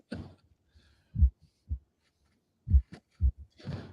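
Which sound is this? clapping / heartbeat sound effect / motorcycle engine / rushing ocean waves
heartbeat sound effect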